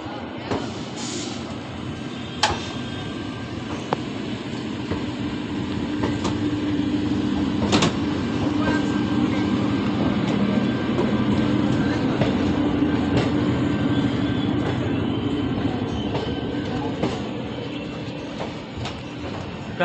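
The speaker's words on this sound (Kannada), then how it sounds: "ಇದು 17326 ಮೈಸೂರು ಬೆಳಗಾವಿ ವಿಶ್ವನಾಥ ಎಕ್ಸ್ಪ್ರೆಸ್ ಡಿಪಾರ್ಟ್ ಆಗ್ತಿದೆ ಕೆಲಸ ಬೆಂಗಳೂರು ಸಿಟಿ ರೈಲ್ವೆ ಸ್ಟೇಷನಿಂದ" The Mysore–Belagavi Vishwamanava Express, train 17326, pulls out of Bengaluru City railway station with a steady close rumble of rolling coaches. Sharp clanks and knocks recur throughout, and faint voices sit in the background.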